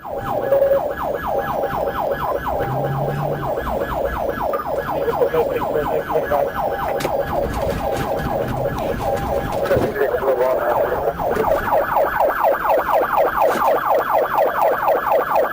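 Police patrol car siren wailing continuously during a vehicle pursuit, loud and close, with repeated rising and falling sweeps and rapid yelp bursts, an engine and road noise underneath.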